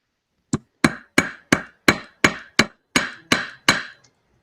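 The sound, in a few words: metal hammer setting rivets on a metal plate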